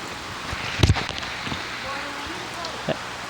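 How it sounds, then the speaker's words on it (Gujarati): Rain falls steadily in a dense, soft patter outdoors, punctuated by a few nearby knocks and brief voices over the continuous downpour. "અત્યારે આપણે વરસાદ ચાલુ થઈ ગયો છે."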